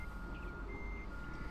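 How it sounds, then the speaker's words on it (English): Backhoes reversing in an apartment parking lot in Farming Simulator 2013 sound a steady, high electronic beeping, faint and distant beneath continuous low background noise. "You can hear the beeping sound in the background."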